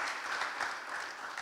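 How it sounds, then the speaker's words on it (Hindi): Loud, steady applause fills a church service as the congregation welcomes a guest, dense clapping sustained throughout without a break. "जोरदार तालियों के द्वारा उनको स्वागत करें"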